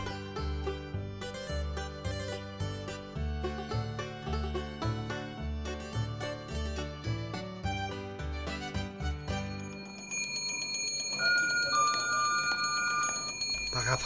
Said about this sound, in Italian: non domandarti per chi suona la campana, essa suona per me